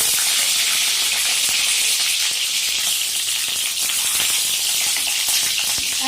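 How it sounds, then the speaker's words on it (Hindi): An egg frying in hot oil until deep brown for egg curry gives a loud, steady, close sizzle with constant hiss and faint crackles, and no talk over it. "अभी अंडा फ्राई करेंगे। इसको ब्राउन कलर का कर लेंगे"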